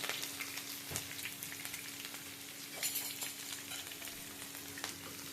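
Onions frying in hot oil in a home kitchen pan, a steady crackling sizzle with occasional sharper pops and stirring clicks, quiet and continuous with no voices.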